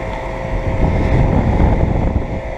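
Guardian 4-ton central air conditioner with a Bristol compressor running just after startup, a steady, loud low-pitched hum and whoosh of the fan and compressor with no breaks.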